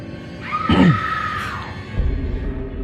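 A single shrill scream from a sister rings out in the horror video game Vicious, rising and falling over about a second, followed by a low rumble in a dark game setting.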